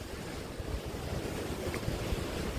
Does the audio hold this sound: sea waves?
yes